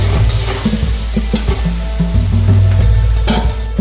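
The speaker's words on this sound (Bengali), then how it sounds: "আমি এখানে কড়াইতে দিয়ে দিয়েছি সাদা তেল আর এবার আমি ওই তেলের মধ্যে দিয়ে দিচ্ছি পেঁয়াজ" Onions fry in white oil in a wok, a loud, dense sizzle with steady crackling throughout, overlaid by repeated scraping and clanking as a spatula stirs them close up.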